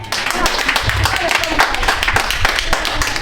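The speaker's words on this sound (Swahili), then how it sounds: "pigeni makofi" A church congregation at a Thursday service claps in a loud burst of applause, with many hands sounding close and continuously for about three seconds.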